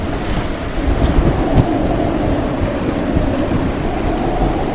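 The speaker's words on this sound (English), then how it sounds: "Can you guys hear the wind noise?" Strong wind roars steadily during a tornado, a dense rushing blast that stays loud and close throughout with gusty surges and no voices.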